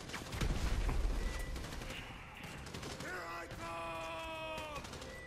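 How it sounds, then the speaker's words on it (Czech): Shotgun blasts and rapid gunfire in the video game GTA V, a dense burst of loud shots early that thins into scattered pops under yelling and a gamer's voice, with ringing synthetic tones later. "Tady někdo střílí brokovnicou?"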